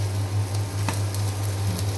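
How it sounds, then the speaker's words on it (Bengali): An egg frying in hot oil gives a steady, close sizzle with faint crackles over a low background hum. "এখন ডিম ভাজি করার জন্য আমি তেল দিয়ে দিয়েছি, তেল গরম হয়ে গিয়েছে। এখন দিয়ে দিলাম আমি ডিম।"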